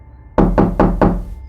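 Four firm, evenly spaced knocks on a wooden door, close and loud, each ringing briefly before the next, with silence before and after in an eerie horror setting.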